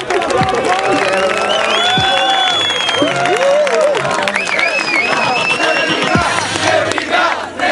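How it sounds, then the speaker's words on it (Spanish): A crowd at a freestyle rap battle semifinal in Concepción roars, cheers and shouts continuously, with clapping mixed into the loud, dense noise and voices calling out throughout. "Más fuerte el aplauso."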